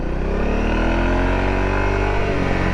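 A 2018 Honda CRF250L motorcycle on a test ride, its engine pulling loud and close in one steady acceleration, the pitch climbing gradually over a few seconds with no voices.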